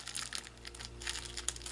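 A plastic sandwich baggie crinkles and rustles up close in short, irregular bursts, alone without talk.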